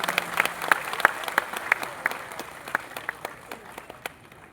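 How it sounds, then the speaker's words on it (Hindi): An audience at a public event in Lucknow gives a round of applause welcoming a government minister and guests, brisk, distinct claps that thin out and fade over a few seconds. "एक बार जोरदार तालियों से सभी का स्वागत करें"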